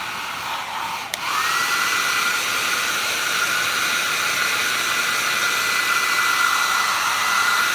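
A hair dryer clicks on and blows with a steady, loud whooshing roar and a faint whine, running continuously up close, heating a custom Marvel Legends Silver Surfer figure painted with Molotow Liquid Chrome.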